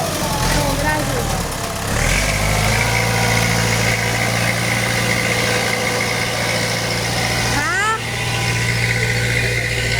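A farm tractor engine idles close by with a steady low rumble and vibration throughout, a brief shift in pitch near the start and a short rising whine later, while someone talks over it.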